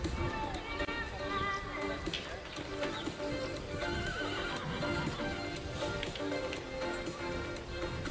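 At a women's U19 European Cup show jumping final, a horse neighs and hooves clip-clop on the course amid continuous arena commentary and crowd ambience.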